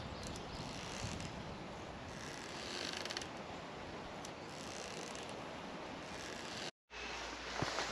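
Sailing boat moored at Pin Mill creaking steadily, with continuous grinding, ratcheting creaks over a dense wash of background noise and a brief dropout near the end.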